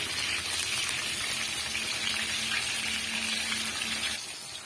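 Eggplant fries in hot oil in a pan with a loud, dense, continuous sizzle and crackle that stays even and then eases slightly near the end.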